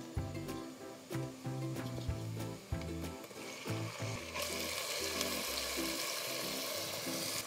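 Mutton frying in a pot, a steady sizzle that swells louder partway through, with scraping and stirring clatter over a low rumble.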